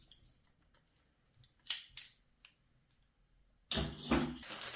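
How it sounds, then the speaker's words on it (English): A set of hex (imbus) keys from an electronics and mechanics tool kit, handled up close: a few light metallic clicks and rattles, then a louder, sustained jangle of metal keys at the end, with no voices. "A set of imbus keys."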